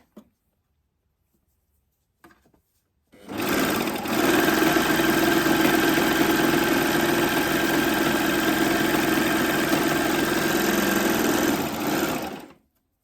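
A Babylock Acclaim sewing machine stitches a straight seam in fabric after a few seconds of quiet, running as a steady, fast, close whirring hum for about nine seconds before stopping.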